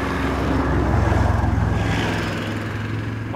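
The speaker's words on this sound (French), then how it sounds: "il y a quand même une voiture qui passe" A car passes on a road near Gorliz in the Basque Country, a steady engine rumble that swells and then eases off. No one speaks.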